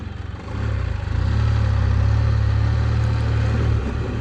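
A Can-Am three-wheel on-road motorcycle's engine holds a steady, loud low drone while riding, building slightly after the first half second and then easing near the end.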